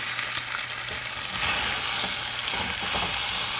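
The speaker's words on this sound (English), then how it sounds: "And then just stir it." Potatoes frying in oil in a pan while being stirred, a constant loud sizzle with soft scrapes and taps of the spatula scattered through it.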